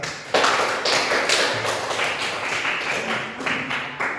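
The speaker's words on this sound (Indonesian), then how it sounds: "Berikan aplaus ya." Brief applause from a classroom group of seated students, a patter of scattered claps and taps with no talking, of moderate loudness and fading out after a few seconds.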